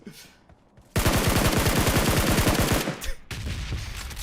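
Rapid automatic gunfire in PUBG Mobile, a sustained close burst of evenly spaced loud shots lasting about two seconds, followed by a short pause and more distant firing and battle noise.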